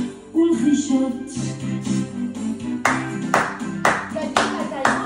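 Hand clapping in a steady rhythmic series of sharp, loud claps keeping time with a sung melody, close and prominent.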